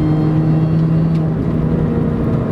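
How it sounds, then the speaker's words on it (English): Engine of a 2005 Mini Cooper S John Cooper Works with a supercharger, a loud, close, steady drone with a clear tonal whine that holds and then shifts slightly, without talking. "on off throttle, there's some nice loud pops and burbles"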